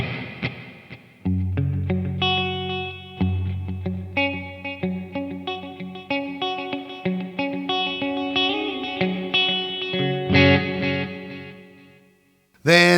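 An electric guitar plays a sequence of sustained notes and chords, its sound thickened with a shimmering chorus and trailing echoes from a low, fairly long delay.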